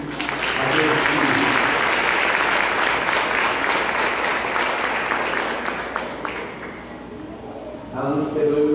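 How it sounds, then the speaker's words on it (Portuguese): A church congregation claps for God during a service, a loud and dense burst of applause that holds steady, thins out toward the end, and then gives way to a voice. "Vamos aplaudir a Deus."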